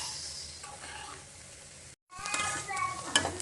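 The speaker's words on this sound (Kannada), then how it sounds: "ಈಗ ಈ ಉಳ್ಳಾಗಡ್ಡಿ ಬೆಳ್ಳುಳ್ಳಿ ಕರಿಬೇವು ಎಲ್ಲ ಹಾಕಿದ್ವಿ ಈಗ ಈಗ ಫ್ರೈ ಮಾಡ್ಕೊಂಡು ಬೆಂಡೆಕಾಯಿ ಹಾಕೋದು" Onion, garlic and curry leaves frying in a pan, a close, steady sizzle with stirring scrapes and clinks, briefly cut off midway, then resuming louder with brighter crackling.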